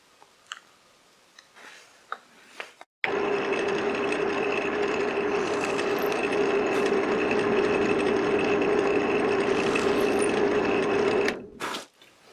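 A power drill bores holes through a piece of plywood to match a wall switch, a steady loud whirring hum running unbroken for about eight seconds after a few light clicks and handling taps, then stopping.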